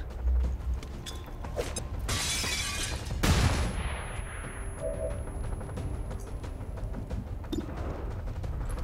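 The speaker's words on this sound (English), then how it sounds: "Flashbang!" A flashbang grenade goes off in XCOM 2 with a sharp, loud bang and a bright shattering crack that decays into a lingering ringing tone, after a burst of noisy clatter, with no speech heard.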